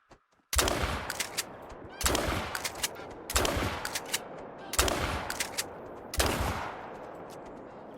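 Video game gunfire in a Finnish coastal setting, five heavy, loud bursts of rapid shots at roughly even intervals, each trailing off into echo, with no talking.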